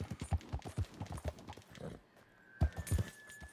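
A horse gallops in Red Dead Redemption 2, with fast rhythmic hoof clip-clops close and steady, a brief lull, then the hoofbeats resume.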